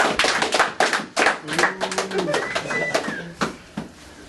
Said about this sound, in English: Now, a round of applause for you.